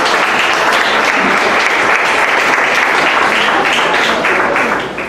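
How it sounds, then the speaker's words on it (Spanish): Congregation applauding inside a church during a sermon, a dense, steady burst of many hands clapping at once that holds loud for about five seconds before starting to taper. "Dele palmas al Señor."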